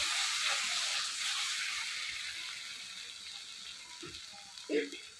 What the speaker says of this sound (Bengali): কষানো হয়ে গেছে, এখন আমি জল দিয়ে দিই।